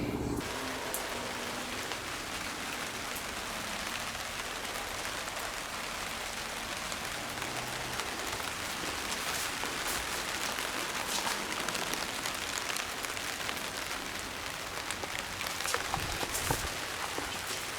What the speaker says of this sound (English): as you can probably tell, it started raining